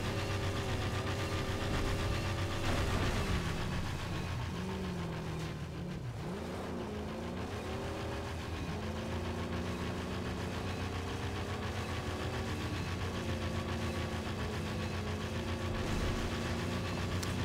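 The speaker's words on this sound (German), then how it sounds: "Und das Geräusch von dem Auto, das war so kaputt, ey. Auch diese Fehlzündungen aus dem Auspuff sind sehr geil." A battered, broken-down car in the Mad Max video game idles and revs with a rough, knocking engine and occasional exhaust backfires, a steady loud drone with shifting pitch sweeps heard alone, without talk.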